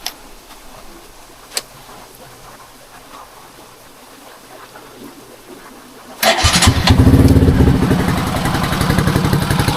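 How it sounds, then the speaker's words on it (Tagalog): Rouser NS 125 motorcycle with a one-year-old Akrapovic exhaust, silencer fitted, quiet at first and then firing up into a loud, steady, close idle that runs to the end. "So itong aking Acra mga lods ay nakakabit pa yung silencer."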